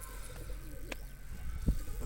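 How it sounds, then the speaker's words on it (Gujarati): Captive pigeons give a low cooing call, with a brief bird chirp as well, fairly close against a quiet background. "નીકળ તો ડાયરો આજે આ 3 કબૂતર પકડ્યા"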